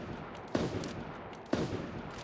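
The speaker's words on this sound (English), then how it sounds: "Look how fast I can fire this." In the game Super Animal Royale, a hunting rifle fires rapidly, with two sharp, punchy shots about a second apart over a faint, steady game background.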